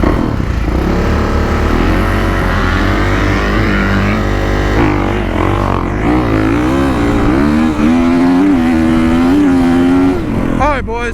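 Dirt bike engines at a drag race start rev loudly with rising and falling pitch, sustained throughout, while voices talk over the engine noise.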